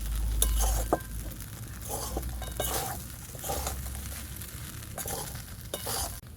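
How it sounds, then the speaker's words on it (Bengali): Flattened rice pulao with ghee is stirred in a pan, giving a low sizzle with repeated spatula scrapes and scuffs every second or so, close and moderately loud. "ঘিটাকে ভালো করে মিশিয়ে নেব।"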